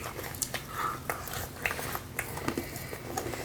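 Close-up crunching bites into a crisp pink meringue cookie made with edible crickets, irregular brittle cracks and chewing over a faint background hum.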